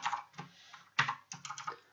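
Someone types on a computer keyboard while writing database code, with quick clusters of crisp key clicks separated by brief pauses, close and fairly quiet.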